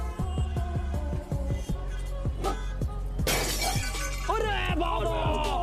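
A car window's glass shatters in one sudden loud crash with a burst of tinkling fragments, set over steady rhythmic music.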